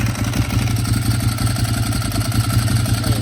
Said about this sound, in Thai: เดี๋ยวสตาร์ทให้ฟังเสียงเครื่องยนต์กันดีกว่า